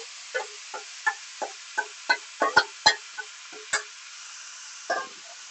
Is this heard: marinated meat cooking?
yes